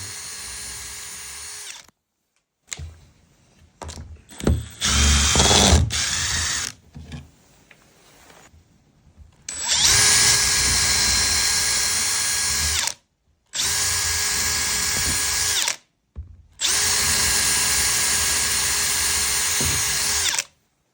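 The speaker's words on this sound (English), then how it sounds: "You will just be drilling out the spindle location." A power drill whines loudly in several long bursts with brief pauses between, steady high-pitched motor noise and some grinding as it bites into a door, drilling out the spindle location for a latch.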